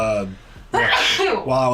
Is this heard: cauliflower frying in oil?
no